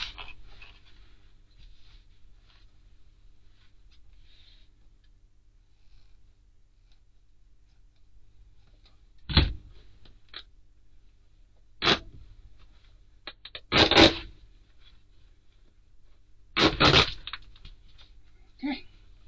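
Scissors cutting through a piece of dressmaking fabric while drafting a V neckline facing, heard as a few separate crisp snips spaced several seconds apart, fairly close and clear over a quiet room.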